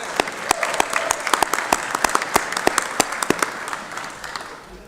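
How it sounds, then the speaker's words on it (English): Steady round of applause fills a state legislative chamber during a 2024 session day, many hands clapping with sharp claps standing out, fading toward the end. "Give him a round of applause."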